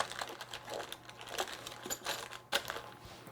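Plastic bags crinkle and rustle as board game pieces for GMT Games' Liberty or Death are packed away, a close, quiet run of irregular crackles and small clicks with no talk.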